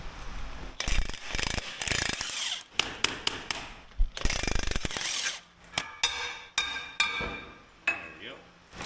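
A ratchet fitted with a chrome socket works loose axle bolts, giving bursts of close clicking and clattering metal with pauses between them, and some knocks and handling noise.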